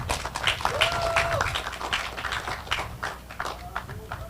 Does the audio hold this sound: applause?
yes